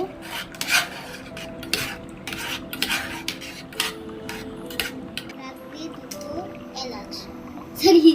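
A spoon scrapes and clinks around a pot as milk is stirred into mutton korma, giving irregular metallic scraping strokes, close and fairly loud, while someone talks throughout.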